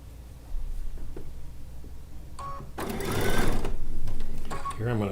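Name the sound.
sewing machine stitching quilt log cabin block seam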